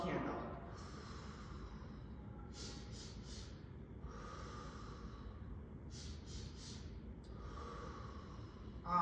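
A person does a stacked breathing exercise during a cardiopulmonary skills check, taking three quick sniffs in, then a long blow out, and repeating the pattern twice, close and clear.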